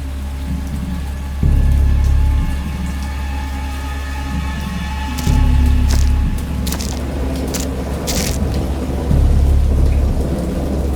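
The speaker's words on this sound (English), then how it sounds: "I have indistinct recollections of a great storm sometime after I reached the boat." A heavy thunderstorm: steady rain drums on a surface while deep rolls of thunder swell up three times, loud and close, with no voices.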